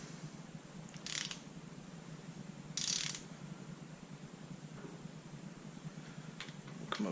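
A torque wrench ratcheting while tightening bolts on a 1968 Mustang 289 engine, two short bursts of clicking about two seconds apart, quiet and close, with a few faint clicks afterward.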